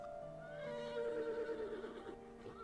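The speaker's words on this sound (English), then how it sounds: "That's a horse. I hear horses." Horse neighs in the horror game Mad Father, a single quavering whinny with descending, wavering pitch, moderately close and fairly faint, with no speech.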